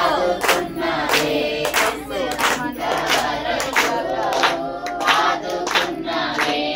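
A church congregation claps loudly and rhythmically in time with a hymn at a prayer hall, sharp regular handclaps over sung voices and accompaniment, close and full.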